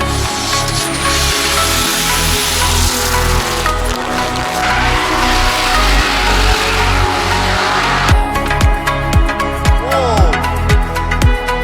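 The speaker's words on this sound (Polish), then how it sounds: "A na pobocznym torze próbują się pierwsze auta z dodatkowych driftów" Drift cars run on a side track at Oschersleben during a combined Drift Kings event, engines revving and bouncing off the limiter in rhythmic pulses, then rapid-fire bursts and shifts, loud and close with no talk.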